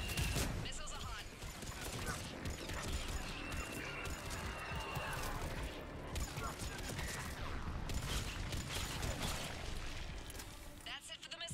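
Missile launches and rapid gunfire in the Mass Effect 3 combat game, a dense, loud, continuous barrage of blasts and shots with no letup, heard beneath a voice.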